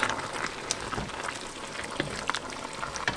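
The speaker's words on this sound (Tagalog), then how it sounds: "So now that it's really boiling a lot" Menudo stew boiling hard in a pot, giving a dense, steady bubbling and popping that fills the whole stretch, close by and with no voices.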